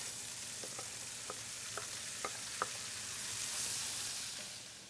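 Collard greens sizzle steadily as they wilt in a hot pot, a continuous bright frying hiss with a few sharp pops and spits near the mic, swelling slightly toward the end.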